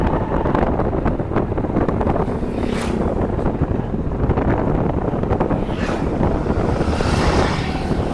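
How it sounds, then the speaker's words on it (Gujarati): Cool wind gusts across a canal, a steady loud rush buffeting the microphone with broad noise that swells and fades in waves throughout. "એટલી બધી ઠંડી હવા આવે છે કે મજા જ આવ્યા કરે"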